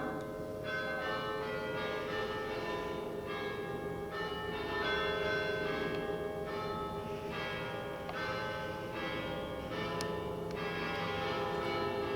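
Church bells ring continuously in a festive peal, several tones overlapping, heard from a moderate distance with no talking.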